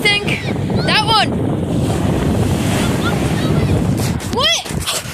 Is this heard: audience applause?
no